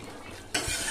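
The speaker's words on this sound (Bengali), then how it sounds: "তো গরম মশলাটা দিয়ে এভাবে একটু মিশিয়ে নিব আর 1-2 মিনিটের মতন একটু জ্বালিয়ে নিব" Garam masala being stirred into duck meat frying in a pan, a soft sizzle suddenly joined by a sharp scrape of a spoon against the pan, brief and close.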